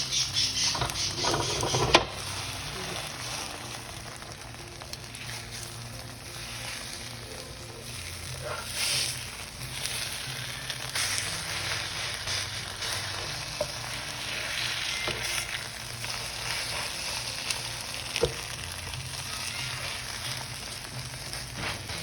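An egg omelette frying in a pan, a steady soft sizzle and crackle running throughout with occasional small taps of a utensil, no talking.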